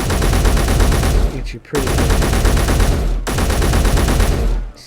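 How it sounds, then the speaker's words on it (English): A rapid-fire gun in the game Space Engineers is hip fired in long, fast bursts of loud, close rattling shots, broken by two brief pauses, with someone speaking over the gunfire. "let's go with the rapid fire one. Reload that. So just hip firing"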